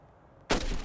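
A single sniper rifle shot in the mobile game Hitman Sniper, arriving as a sudden loud blast that sustains a broad roar for the rest of the moment, with no talking.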